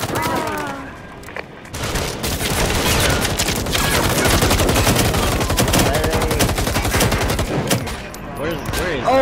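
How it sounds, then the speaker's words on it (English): Gunfire in the video game Firewall Zero Hour: dense bursts of rapid shots and automatic fire rattling almost continuously, loud and close, with voices talking underneath at times. "people shooting people"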